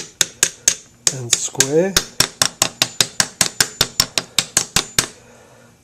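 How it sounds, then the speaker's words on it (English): Hammer tapping on a steel piston ring compressor to seat a piston in an MG 1100 engine: a steady run of sharp, ringing metallic taps at a brisk even rhythm, close by, with a short spoken phrase partway through. "you need to just tap around the sides of it to make sure it's all seated"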